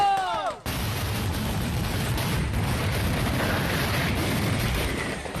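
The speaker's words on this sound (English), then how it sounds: "fireworks exploded and injured multiple people" Continuous dense rumbling and crackling of exploding fireworks at a Fourth of July neighborhood block party in East Toledo, loud and sustained after a brief faint whistle, with a chaotic jumble of bursts and no clear separate bangs.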